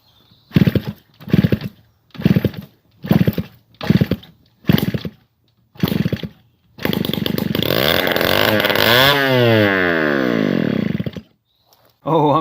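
A Yamaha QT50 moped engine, freshly rewired, sputters through about seven short cranking bursts, then catches and runs steadily for several seconds with rising and falling revs before cutting off, loud and close.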